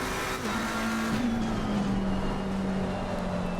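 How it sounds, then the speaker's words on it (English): A BMW race car engine drones in Assetto Corsa Competizione at the Monza circuit, a steady, sustained mid-pitched tone with slight pitch dips, heard alone and continuous. "Putting the BMW through its paces"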